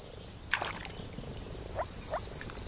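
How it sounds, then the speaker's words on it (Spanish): Moor frogs croaking in a pond in Germany's Green Belt, a few short low croaks scattered over the first half, then a run of rapid high chirping calls, all close and fairly clear. "Las ranas ya vivían en la charca cuando la torre estaba ocupada."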